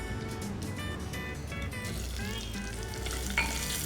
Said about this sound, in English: You can add a bit more oil, into which you add the onions.